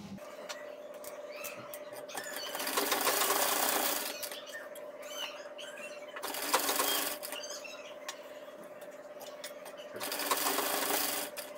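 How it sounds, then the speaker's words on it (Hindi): A sewing machine runs in bursts, stitching a top stitch along a neckline stiffened with buckram for a suit; three louder runs of steady whirring are separated by quieter handling and fabric rustle, close and with no talking. "अब हम यहाँ पर एक टॉप सिलाई लगाएंगे पास में बिल्कुल गले के"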